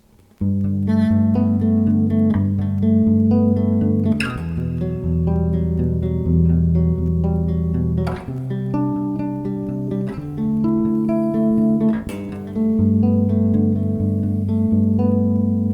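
Sustained add9 chords on a bass guitar, ringing notes changing every couple of seconds in a slow, even progression, played alone and close.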